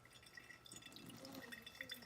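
Liquid trickles and drips steadily through a filter at close range, a soft wet pouring sound with no talking.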